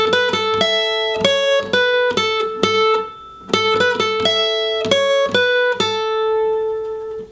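Clean guitar picks out the beginner-friendly intro to a song, a clear plucked melody with steady rhythmic note attacks and ringing sustain, played alone with no voice.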